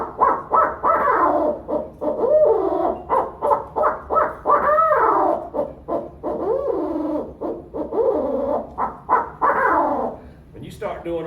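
A person imitating owl hoots to provoke an owl response, a long run of rhythmic, close, loud hooting and cackling calls repeated in bursts.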